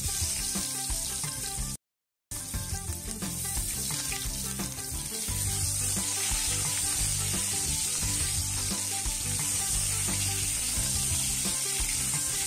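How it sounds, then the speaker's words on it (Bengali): Potatoes frying in hot oil with panch phoron spices, giving a steady, bright sizzle with crackling bubbles and occasional stirring scrapes, continuous and close apart from one brief silent gap near the start. "তো আমি এখানে তেলের মধ্যে একটু পাঁচফোড়ন দিয়ে দিয়েছি, তারপর আলুগুলো দিয়ে দিলাম।"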